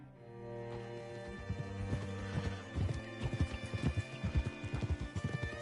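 Horse hooves clop in Red Dead Redemption 2, a close, regular rhythm of hoofbeats that grows stronger and steadier over a soft musical bed.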